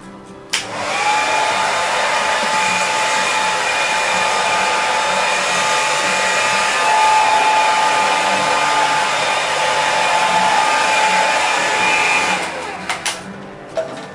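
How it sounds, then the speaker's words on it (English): A hair dryer blows with a loud, steady whoosh and whine for several seconds, then clicks off. "I'll just always use a hair dryer to mold your hair into place."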